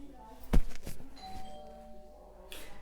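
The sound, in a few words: doorbell ringing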